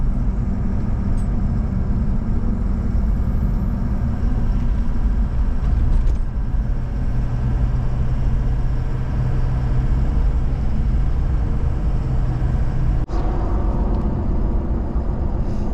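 A 6.0 Powerstroke diesel truck, fresh from EGR cooler and oil cooler replacement, drives along with a steady, loud engine drone and road rumble that continues throughout with no talking.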